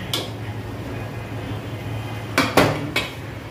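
A boy stirs food in a metal cooking pot with a utensil, giving a few sharp clanks and scrapes near the end over a low steady kitchen hum.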